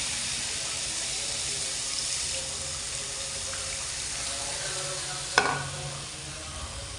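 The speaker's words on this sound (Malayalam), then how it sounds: "പുളിവെള്ളമാണ് ഒഴിക്കുന്നത്." Tamarind water pours steadily into a hot cooking pot, a continuous close hissing rush, followed by a brief sharp clatter and softer sizzling as the pour ends.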